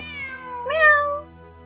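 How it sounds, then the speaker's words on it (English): A cat in the video game Genshin Impact gives a single clear, rising meow, close and distinct over a quiet steady hum. "Wait, there it is! The cat!"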